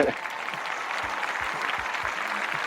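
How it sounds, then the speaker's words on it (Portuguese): A burst of applause from a small group, steady clapping with distinct claps audible, continuing throughout at moderate volume. "Palmas do editor, por favor."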